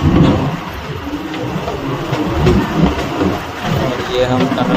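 A Bhakra railway train on the Sutlej river route rumbles into a tunnel with a loud, continuous rolling roar and rattle, and a voice is heard over the noise.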